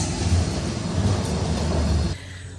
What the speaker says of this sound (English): It's a free metro, and it runs from Buffalo through the city right down to the canal.